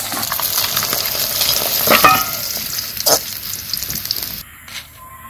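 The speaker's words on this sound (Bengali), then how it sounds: "আমার মাছ ভাজা হয়ে গেছে" Fish frying in a pan gives a loud, close, continuous sizzle with a few stirring scrapes, then it cuts off abruptly near the end; no one speaks.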